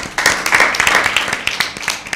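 Quiz-show audience clapping for a team during a Lent season Bible quiz, a dense, steady round of applause with sharp hand claps standing out, fairly loud and close, lasting throughout with no talk.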